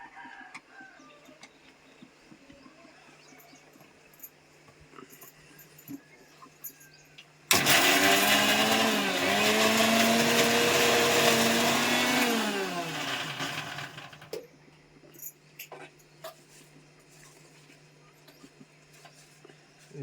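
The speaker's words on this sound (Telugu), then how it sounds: "ఇప్పుడు మిక్సీ పచ్చ పట్టుకోవాలి" A kitchen mixer grinder grinds a paste with ginger, switching on abruptly into a loud, steady whirring roar. It runs for about seven seconds and its pitch sags as it works before cutting off, with quiet background noises around it.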